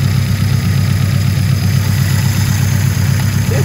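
A car engine idles with a steady low rumble while the throttle is worked during carburetor tuning, the tone holding fairly even and loud with no talk over it.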